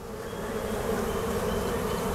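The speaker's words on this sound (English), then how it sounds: "So the bees that are returning, obviously we gotta shake them out." A steady, dense buzz of many honey bees close by, continuous and fairly loud throughout with no talking.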